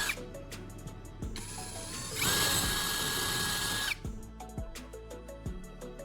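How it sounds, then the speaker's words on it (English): A power drill whirs up and bores steadily into wood for a couple of seconds, rising in pitch, with ratcheting clicks and taps before and after, close by. "I'm using a drill to carefully make a few holes at the locations I've marked"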